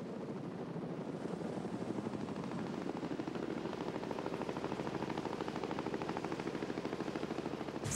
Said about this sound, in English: The chopper flies over the lake and mountains.